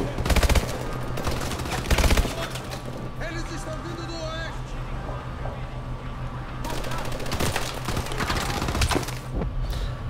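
Bursts of automatic gunfire from Call of Duty: Advanced Warfare rattle in dense volleys, loudest near the start and again in the second half, with someone talking over the shooting.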